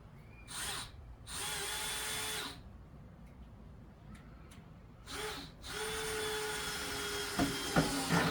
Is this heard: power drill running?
yes